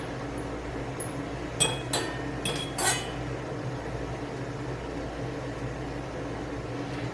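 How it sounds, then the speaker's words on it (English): Glass canning jars clink together in a tight cluster of bright, close taps, about four in quick succession, while rubber gasket rings are aligned on their rims, set against a steady low background hum. "the trick is going to be to align the rubber rings on the edges of these jars"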